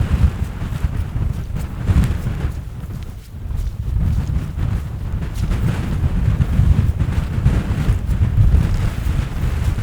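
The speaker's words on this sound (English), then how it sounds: "A bit windier, the bleakosity is increasing." Strong wind gusts across a misty, bleak hilltop on a fell walk, a steady low roar buffeting the microphone, with no talking.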